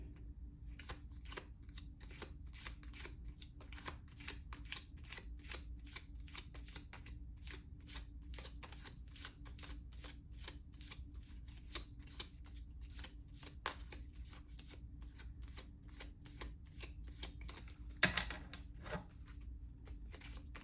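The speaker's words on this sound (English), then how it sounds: "I'm going to try to shuffle a little bit slower." Tarot cards shuffled slowly and steadily by hand, a long run of soft, close riffling clicks with a brief louder flurry near the end, no voices.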